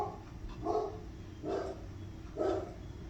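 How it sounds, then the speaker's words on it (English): A pet dog gives three separate barks at steady intervals, faint and somewhat distant inside a quiet home, with no talking over them. "That's my dog."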